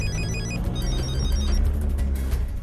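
A telephone ringing on an outgoing call that goes unanswered, repeated electronic ring pulses in a steady rhythm, fairly loud over low background sound with no speech.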